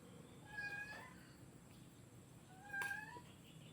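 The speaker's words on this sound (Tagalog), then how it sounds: "Ingay ng mga kasama ko, mga idol. Kaso hindi tao eh. Mga pusa." Two cats meow, a couple of seconds apart, fairly close, against a quiet outdoor background hum.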